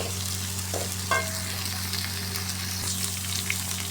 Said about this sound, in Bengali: রসুন, পেঁয়াজ, কাঁচা ঝাল, ধনিয়া পাতা সবই দিয়ে দেবো তেলের উপরে দিয়ে এটা আমি নেড়ে চেড়ে নেবো এইভাবে করে